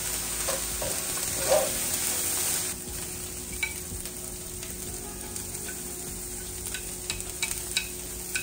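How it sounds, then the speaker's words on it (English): Chopped onions and peppers sauté in a pan for homemade sloppy joes, giving a steady, soft sizzle with occasional light utensil taps and stirring, and no talking. "I'm going to saute everything until it is nice and fragrant"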